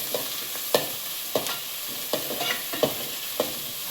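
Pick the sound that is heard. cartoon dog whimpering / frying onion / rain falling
frying onion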